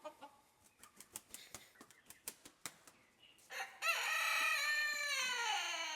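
A rooster crows loudly and close, one long drawn-out call rising then trailing off, preceded by a run of sharp clucks and scratchy rustling from the fowl.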